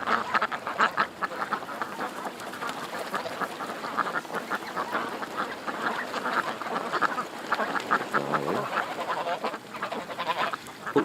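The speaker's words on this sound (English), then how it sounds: "Happy ducks." A flock of ducks in a pen quacks continuously in a dense, overlapping chorus at steady volume throughout, with no talking.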